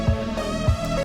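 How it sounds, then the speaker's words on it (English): Filtered kick drum in an Ableton Live outrun synthwave production: two muffled, low thumps about half a second apart over a sustained synth pad, close and moderately loud. "the filtered kick"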